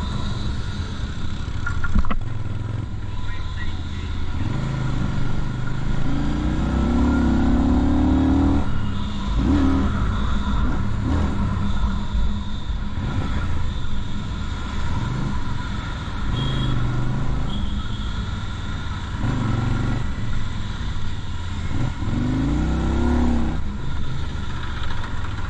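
A Keeway K Light 250V V-Twin cruiser motorcycle ridden through city traffic, its engine droning steadily underneath, rising and falling in pitch with several rev swells and shifts, mixed with wind and surrounding traffic noise throughout.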